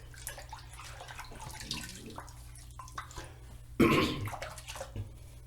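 A face being washed with water before shaving, quiet splashing and dripping close by, with one louder splash of water partway through.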